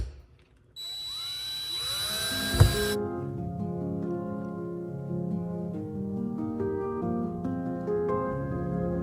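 A power drill driving screws into wood, a near, sustained whine that shifts pitch as the screw tightens, following a brief high burst and a sharp knock.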